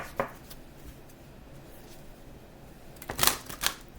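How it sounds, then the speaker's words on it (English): Tarot cards are shuffled quickly, giving a few short, crisp riffling bursts near the start and again in a clustered flurry toward the end, with quiet room tone between and no talking. "So we're gonna go ahead and shuffle quickly"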